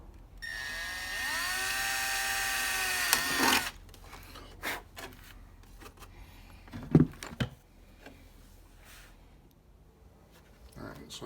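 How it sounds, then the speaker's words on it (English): A high-pitched power drill whines for a few seconds drilling holes in an RC car body, winding down, then scattered handling clicks and clatter follow. "So I got all of the holes drilled where I want them."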